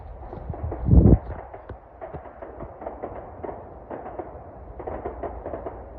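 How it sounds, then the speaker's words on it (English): A single loud bang, like a firework going off at a distance, rings out early, followed by scattered quieter pops and rustling outdoors in a forest on a mountain in Connecticut. "I think somebody's setting off fireworks on top of this mountain."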